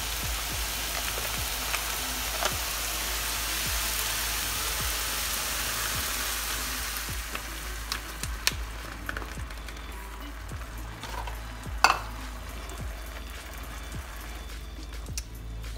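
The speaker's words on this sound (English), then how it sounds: "While Sarah's finishing up browning the meat" Ground turkey browning in a pan, a steady crackling sizzle that eases partway through, with occasional utensil clinks and scrapes.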